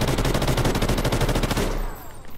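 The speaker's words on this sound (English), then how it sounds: "Bullets flying by here." Rapid automatic gunfire in Call of Duty Ghosts online play, a loud dense burst of shots in quick rhythm that cuts off near the end, leaving a fading ringing tail.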